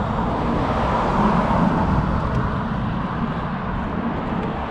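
Shimano neutral support cars roll past at a cycling race, a steady broad road and engine rumble holding close and loud throughout with no clear break.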